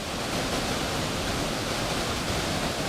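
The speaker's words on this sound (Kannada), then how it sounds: "ಚುಂಚನಕಟ್ಟೆ ಜಲಪಾತ ಧುಮ್ಮಿಕ್ಕಿ ಹರಿತಿದೆ" Chunchanakatte waterfall in Karnataka, swollen after heavy rain, gives a loud, unbroken roar of rushing water that fills the scene with no voices.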